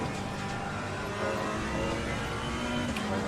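Race car in a racing video game pulling out of a corner in second gear, engine rising steadily under throttle, a continuous near whine with a slight surge midway, no voices over it.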